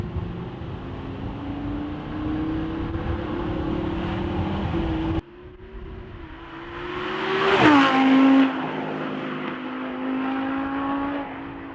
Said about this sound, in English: You can definitely still hear the engine over the exhaust though,